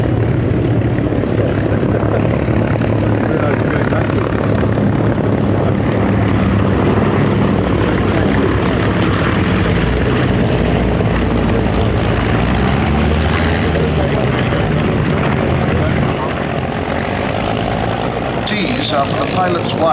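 Propeller-driven aircraft engines, including a heavy bomber such as a B-25, roar loudly and continuously at the Duxford airshow under menacing weather, with a commentator talking over the drone throughout.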